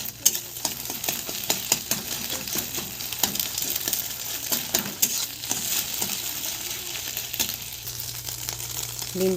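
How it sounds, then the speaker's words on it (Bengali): Two eggs frying in a hot wok for egg chowmein, giving a steady close sizzle with scattered sharp crackles and pops throughout, alone without talk. "ডিমটা ভেজে নিচ্ছি।"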